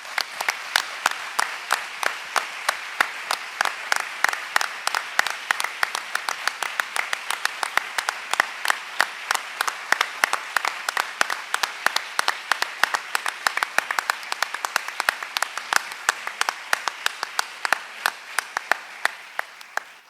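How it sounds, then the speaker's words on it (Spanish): Sustained applause from a congress audience, dense rapid clapping from many hands holding an even, fairly loud level for the full stretch before thinning slightly toward the end. "quería pedir un aplauso a un trabajo de tanto tiempo"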